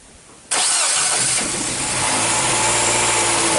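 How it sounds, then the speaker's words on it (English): A 2007 Nissan Sylphy with a P0304 cylinder misfire cranks briefly and then catches, settling into a loud, steady, slightly rough idle close by, with no talking. "this is the first time the vehicle is started up"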